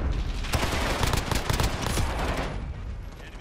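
Shotgun fire in Call of Duty Modern Warfare, a quick run of loud, sharp blasts amid a busy firefight, bunched close together before easing off near the end.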